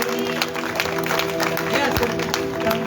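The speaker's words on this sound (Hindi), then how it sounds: "जोरदार ताली होनी चाहिए।" A church congregation claps during a prayer and testimony service, a moderate patter of applause at mid distance with voices and a sustained tonal hum underneath.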